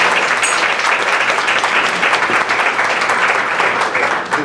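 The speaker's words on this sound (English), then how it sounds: "So let's give all the students a big round of applause." Loud, dense applause from an audience for students at a meeting, a continuous roar of many hands clapping that stays steady and fades slightly at the end.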